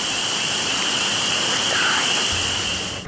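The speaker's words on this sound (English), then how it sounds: "A soft rain falls" Soft rain falls in a steady, even hiss that stays unbroken throughout, with no voices.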